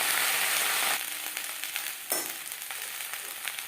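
Onion stalks fry in oil over a low flame, giving a close, steady hiss and crackle. The sizzle drops a little after the first second, and a few stirring scrapes and pops follow.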